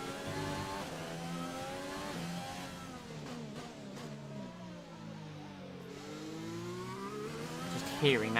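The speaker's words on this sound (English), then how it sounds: "Hearing that Ferrari" A Ferrari Formula 1 car engine in the F1 2020 racing game, revving loud and continuous with rising and falling pitch through gear changes, while a voice talks over it.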